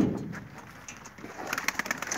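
Low, soft cooing of over a hundred racing pigeons mixed with rustling and light fluttering nearby, several birds murmuring together.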